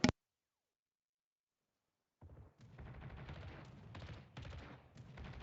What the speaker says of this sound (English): Drix now being shot at by Peyton as well.